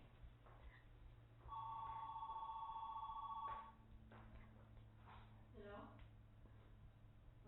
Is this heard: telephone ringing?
yes